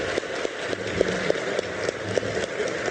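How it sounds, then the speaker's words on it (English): Audience applause for gubernatorial candidates at the close of a forum, a steady wash of many hands clapping at moderate volume, with scattered sharper claps standing out from the crowd. "Round of applause for our candidates."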